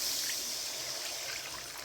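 Tamarind water mixed with masala poured into a frying pan for a garlic kulambu, a steady close liquid stream and splash running continuously with no talk.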